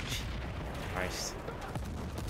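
Armored personnel carrier firing repeatedly in the video game Battlefield: Bad Company, a dense, continuous stream of gunfire and booms with a voice mixed in.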